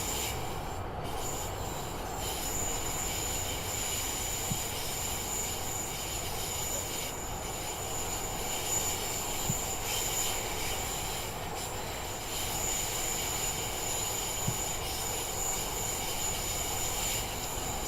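Double-headed Class 37 diesel locomotives pass by in a train simulator game, producing a continuous heavy rumble and rolling wagon noise with a faint high squeal, steady and loud throughout.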